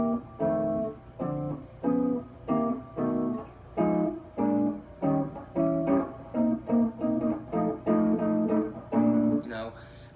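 A rhythm changes chord progression is played through, one section of eight measures, as a steady series of evenly spaced chords sounding clearly with short gaps between them and no talking.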